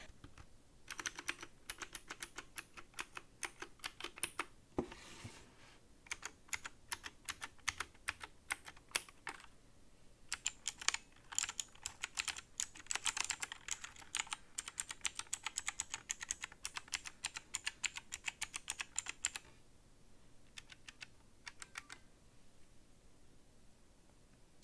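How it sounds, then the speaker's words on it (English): An AULA Excalibur mechanical keyboard with blue switches is typed on in quick clicky bursts separated by short pauses, close and fairly quiet, with no talking. "it does sound like a blue switched keyboard"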